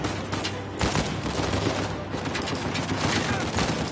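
Gunfire in the video game Uncharted 4 on hard difficulty, a dense, continuous clatter of shots layered over busy game noise and music, steady and fairly loud throughout with no clear gaps.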